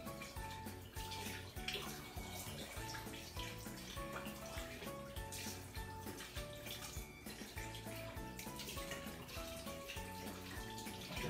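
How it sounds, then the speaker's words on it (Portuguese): Water runs steadily from a tap while hands are rinsed under it. The splashing is continuous, close and fairly soft, with no voices. "você vai abrir a torneira e começar o enxágue do cotovelo para baixo"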